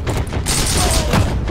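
Dense burst of rapid gunfire and explosions in the World War II shooter game Heroes & Generals, loud and continuous through the short moment, with no talk.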